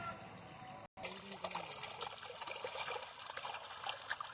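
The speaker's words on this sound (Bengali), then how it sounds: "আমরা কিন্তু আজকে সেচ দিচ্ছি, দেখুন জল যাচ্ছে।" Irrigation water for fruit trees trickles and splashes steadily along the ground, a continuous wet flowing hiss after a short break at the start, with no talk over it.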